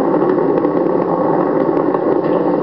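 Space Shuttle Atlantis lifting off from Kennedy Space Center, its three liquid-fuel main engines throttling back to 72% of rated power, giving a loud, steady, crackling roar with no let-up.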